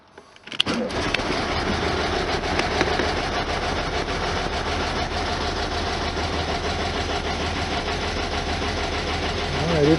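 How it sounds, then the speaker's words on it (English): A 1973 VW Super Beetle engine with hydraulic lifters cranks briefly and catches, then settles into a loud, close, busy idle with a rattling, clattering texture that runs steadily to the end. "Let's see what happens when we crank it."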